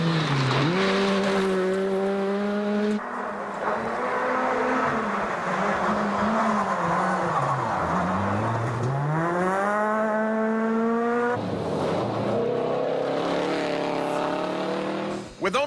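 A Ford Fiesta rally car races along a stage of the Susquehannock Trail Performance Rally, its engine rising and falling through hard acceleration and shifts. Loud and close throughout, with a commentator talking over it.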